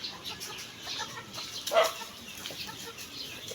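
Chickens cluck softly nearby amid a busy outdoor background, with one brief louder squawk partway through; no talking.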